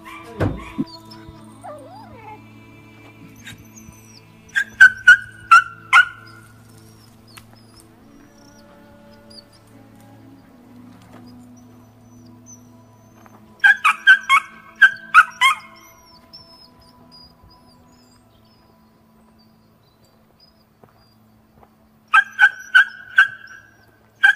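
A young dog, a three-month-old puppy, gives three short bursts of sharp barks and yelps separated by quiet stretches, with a faint whimper and low background rumble early on, close and loud.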